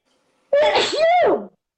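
One loud, close sneeze with a sharp voiced burst, then quiet.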